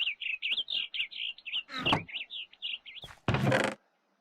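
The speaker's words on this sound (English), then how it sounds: "there's all sorts of birds in this mod, the Mo Creatures mod" Bird chirps from the Mo Creatures mod in Minecraft: a rapid run of high tweets, then a brief louder burst of game noise and a sharp thud near the end.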